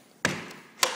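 A house front door's lock mechanism locking, heard as two sharp, close metallic clicks or clunks about half a second apart, with a quiet room tone between them.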